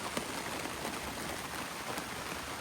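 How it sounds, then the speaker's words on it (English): Heavy rain pours steadily on a hiker crossing a boardwalk, a dense, even hiss of drops filling the whole stretch with no pauses. "And it starts really raining on me hard."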